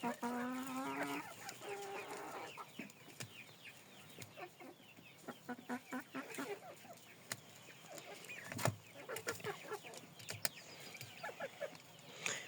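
Silkie and frizzle chickens clucking in a small flock, a steady run of overlapping clucks and short calls at close range, with quiet talk faintly in the background.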